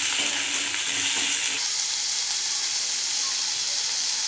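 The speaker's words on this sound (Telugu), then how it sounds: "ఇవి కొంచెం వేగిన తర్వాత ఉల్లిపాయ ముక్కలు కూడా వేసేసుకొని వేయించేసుకోండి।" Brinjal and onion pieces frying in a pan, a loud, dense, steady hiss of sizzling oil with faint stirring sounds early on, no speech.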